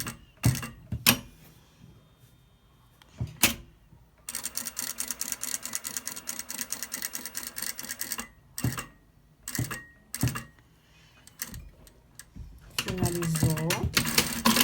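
Sewing machine stitching the side seam of a piece of fabric, running in a steady buzzing burst for several seconds between short pauses, close by, with a voice speaking toward the end.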